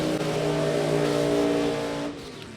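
A NapaFilters.com drag racing car accelerating hard at Route 66 Raceway during a LODRS event, a loud, sustained engine roar that holds for about two seconds and then cuts off abruptly, with no talking.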